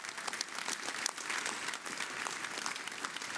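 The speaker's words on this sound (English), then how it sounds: "Please give them a round of applause." A crowd at a student awards ceremony applauds in a steady, dense wash of clapping that holds at an even level throughout, with no one speaking over it.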